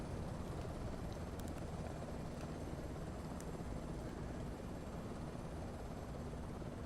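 An MH-60 helicopter in Microsoft Flight Simulator 2024 during a multiplayer recovery mission in Puerto Rico, a steady, faint rotor and engine roar that holds unchanged throughout.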